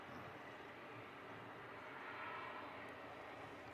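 A broad, steady roar from an airplane touching down at Christchurch International Airport, heard from a distance as a continuous wash of engine and wind noise that swells slightly midway, with no voices.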